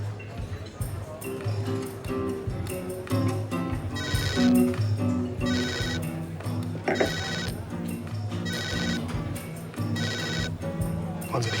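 A telephone rings with repeated electronic trilling bursts against busy, music-like background sound, while people speak over it.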